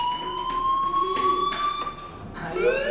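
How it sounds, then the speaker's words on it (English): Fire alarm ringing in the Life Is Strange video game, a continuous, loud electronic alarm tone that holds steady throughout, with faint background movement underneath. "Hey, do you hear that fire alarm?"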